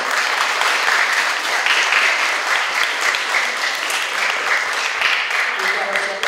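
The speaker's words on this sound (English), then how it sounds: "Big round of applause for her." An audience at a school DARE graduation claps for Glendale Heights mayor Linda Jackson, a steady roomful of applause with distinct individual hand claps that continues evenly, with faint voices underneath.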